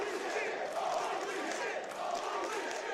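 A wrestling arena crowd in Nashville roars continuously and loudly after a big dive, a dense sustained wall of cheering and shouting from many voices.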